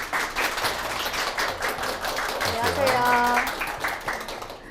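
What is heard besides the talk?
audience applause welcoming speaker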